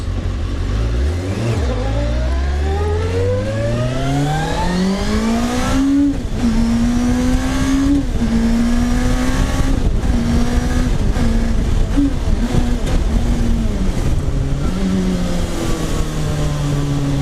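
A road car powered by a Suzuki GSX-R1000 superbike engine accelerates hard through the gears, its high-revving engine rising steeply in pitch and shifting several times, loud and close as if heard from inside.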